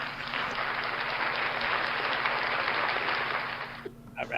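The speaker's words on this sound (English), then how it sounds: "Round of applause." Sustained applause from a crowd gathered around a park ranger, a dense wash of clapping lasting about four seconds before cutting off abruptly, with a voice starting up right after.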